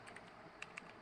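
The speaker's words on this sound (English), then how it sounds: "I will just type ADB sideload" Keystrokes on a computer keyboard while entering an ADB sideload command during an Android custom ROM install, a few quiet clicks with two sharper taps near the end, close and alone.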